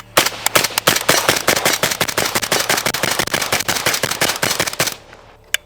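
An AK-47 rifle chambered in 5.56 fires a long, rapid string of loud, close, sharp shots at an even fast rhythm for about five seconds, then stops abruptly.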